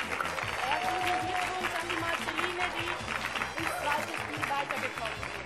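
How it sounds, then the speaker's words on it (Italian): Studio audience applause for the Torricelli school team at the 45th student festival quiz show, a dense continuous clapping wash mixed with crowd noise and tonal sounds, loud and steady throughout. "Un applauso al Torricelli."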